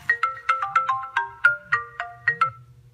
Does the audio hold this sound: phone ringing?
yes